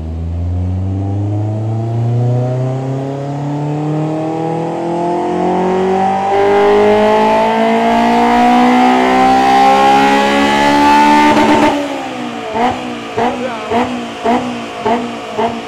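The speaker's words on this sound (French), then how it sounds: "On entend vraiment bien le bruit du VTEC de là-bas" A Honda S2000 VTEC engine revs steadily higher in pitch, screaming at the top before dropping off into a series of short throttle blips.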